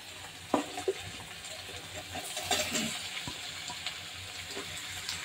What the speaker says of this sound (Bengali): মশলাটা একটু ভাজা ভাজা করে নাও।